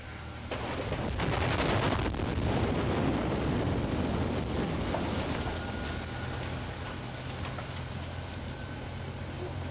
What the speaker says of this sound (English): And it should make a hell of an explosion.